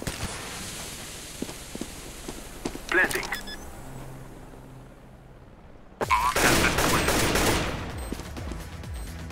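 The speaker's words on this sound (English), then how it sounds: "A shot." Counter-Strike: Global Offensive gunfire, a few sharp shots around the middle followed by a loud sustained burst of rapid fire, amid game footsteps and ambient noise.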